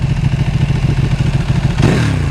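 A Ducati 1299S motorcycle with a new exhaust revs close by, its engine pulsing rapidly and then rising in a quick throttle blip near the end, loud and with no voices.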